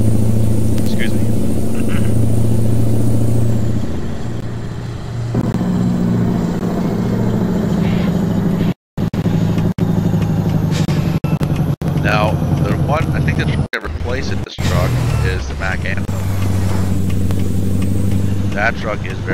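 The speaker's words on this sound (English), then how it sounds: "we are running a Mack engine. I think it's the 550 or 500 engine horsepower engine, Mack M drive" A Mack Pinnacle truck in American Truck Simulator, fitted with a Mack 500 to 550 horsepower engine and an mDRIVE transmission, holds a loud, steady diesel drone that changes pitch and cuts out briefly a few times, while a voice talks over it.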